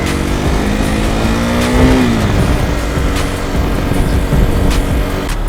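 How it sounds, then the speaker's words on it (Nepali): A KTM RC 200 motorcycle engine revs loudly and close, its pitch rising and then dropping, with steady road and wind noise running underneath. "कितना smooth दौड़ेगा मेरा बाइक"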